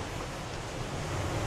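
Sea waves washing on a beach as the tide recedes, a steady broadband wash of surf with some wind, faint and continuous, no voices.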